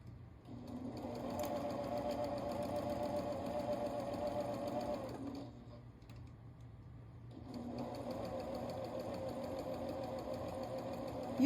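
A sewing machine chain pieces fabric with a back stitch, humming in a steady rapid whir for about five seconds, pausing briefly, then running again for several more seconds.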